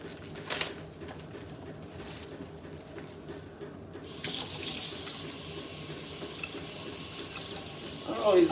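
Broccoli is rinsed under a running kitchen tap, a soft steady hiss of water that swells louder partway through. A few faint clinks sound over it, along with a light background murmur.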